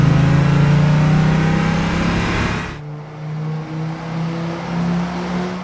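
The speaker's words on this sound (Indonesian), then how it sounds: "Kemudian gak berselang lama datanglah Jae-chol dengan menggunakan mobil merah yang berjenis Maserati Gran Turismo." Red Maserati Gran Turismo arrives with a loud, sustained engine rev that cuts sharply to a lower, wavering idle rumble.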